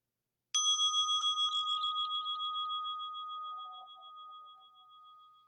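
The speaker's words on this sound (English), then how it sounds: "let's begin and end with the sound of the bell." A single meditation bell struck once in a quiet room, its clear ringing tone sustaining and slowly fading over several seconds, heard alone.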